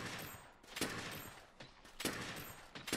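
Gunfire in Monster Hunter World plays as quick bursts of rapid shots with short gaps between them, fairly faint and even, with no speech.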